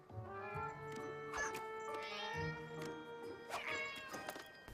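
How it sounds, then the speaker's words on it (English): Cartoon cats in a My Little Pony episode meow and yowl repeatedly in a dense, overlapping chorus, with several drawn-out caterwauls rising over one another at steady loudness throughout. "Freaking cats."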